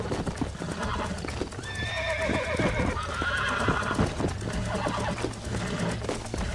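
A wild horse in Red Dead Redemption neighs and whinnies over steady clip-clopping hooves, with game sounds filling the background.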